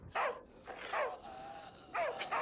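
A dog barks in the virtual-reality zombie game Arizona Sunshine 2: three short barks spaced about a second apart, with a thin whine between them, moderately loud and close, with no talking.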